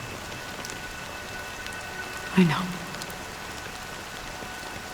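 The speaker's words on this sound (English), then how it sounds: "it's still raining." Steady rain patters on a surface throughout in the video game Honkai: Star Rail, with a brief spoken phrase in the middle.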